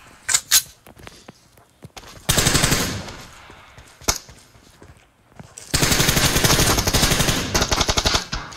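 Video game gunfire arrives in bursts: a few sharp single shots, then two long sustained rattles of automatic fire, loud and close, with quieter clicks and gaps in between.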